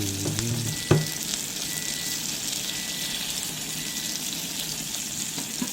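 Chinese kale stir-fries with oyster sauce over gentle heat, a continuous hissing sizzle after a sharp clang of the pan early on, close and steady with no talk.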